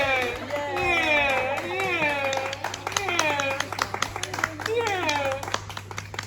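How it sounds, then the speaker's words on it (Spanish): Guests at a baptism celebration during a culture week clap, scattered claps tapping along under a loud voice speaking over them in a hall. "Un fuerte aplauso para ellos."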